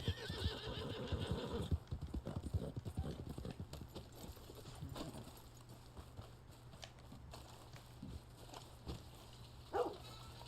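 Horse hooves clip-clop and a horse neighs in the open-world western game Red Dead Online, with steady galloping hoofbeats loud at the start, then scattered steps and a short whinny near the end.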